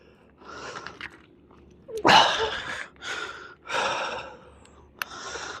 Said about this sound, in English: Sorry about the breathing.